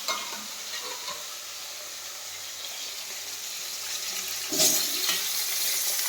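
Five pieces of fish frying together in plenty of oil, a steady close sizzle and bubbling that swells louder near the end, with no talk.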